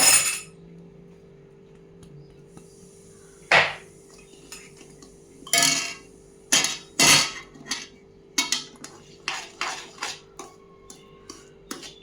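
A spoon scrapes and clinks against a pan while rawa ladoo mixture is stirred, in a run of irregular metallic taps and knocks over a quiet background hum.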